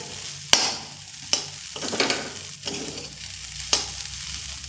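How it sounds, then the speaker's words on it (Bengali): Moong dal filling for kachori stirred and broken up in a hot pan, a low sizzle punctuated by several sharp spoon scrapes and knocks against the pan at irregular intervals. "দেখুন এইভাবে নেড়ে নেড়েই কিন্তু একটু ঝুড়ো করে নিতে হবে।"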